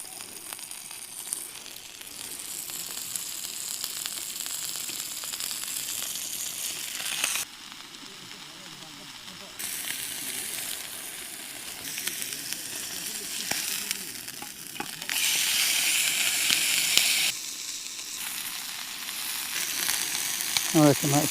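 Food sizzles and crackles steadily in hot oil in a frying pan at a foggy Lake District campsite, close and continuous, with loudness shifting in bursts as it is stirred.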